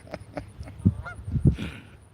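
A goose on a small lake honks repeatedly in a short series of loud, nasal calls to its flock, heard close and clear with no talking.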